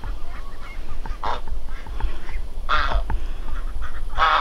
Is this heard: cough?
no